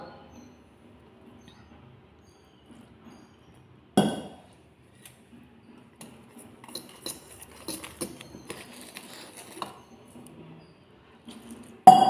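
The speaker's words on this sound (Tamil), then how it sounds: "இப்போ இந்த மாவை நான் கரைச்சிடுறேன் பார்க்கலாம்" Wheat flour dosa batter being whisked in a bowl: an irregular run of light clinks, taps and soft scrapes close by, with a sharp knock at the start and another at the end, in an otherwise quiet room.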